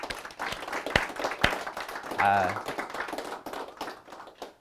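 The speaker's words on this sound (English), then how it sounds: "if we can all real quick just give a round of applause to Noah and the team out here" An audience gives a quick round of applause at a gathering, fairly faint and uneven, with a few sharp close claps standing out and brief voices and a short tonal sound mixed in.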